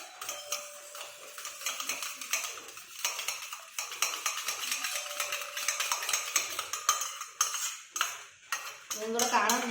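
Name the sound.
eggs being beaten with a spoon in a bowl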